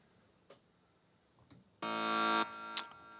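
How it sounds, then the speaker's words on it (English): An alarm clock sound effect gives a loud, steady electronic buzz lasting just over half a second. A few soft ticks precede it and a brief chirp follows, all in quiet surroundings. "I didn't know which sound effect to go with, so I went with the alarm"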